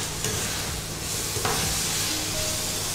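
Spices and paneer sizzle steadily in a hot pan while being stir-fried for a hot and sour chicken dish, with a constant frying hiss and occasional scrapes of a spatula.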